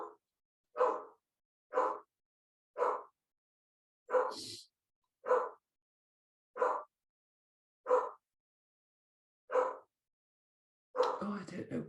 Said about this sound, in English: my dog's barking in the background might be really difficult for you